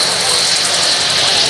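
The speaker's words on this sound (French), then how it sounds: "un transal qui roule vite derrière pour aller se remettre en bout de piste et redécoller" A Transall C-160 military transport aircraft taxis fast along the runway at an air show, its turboprop engines a loud, constant, hissing roar with a strong whine that stays steady across the moment.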